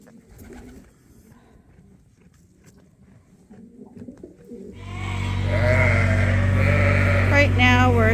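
Ewes and lambs bleating loudly and close in a farm creep pen, several overlapping calls that swell in after a quieter, muffled opening, with birds faintly around.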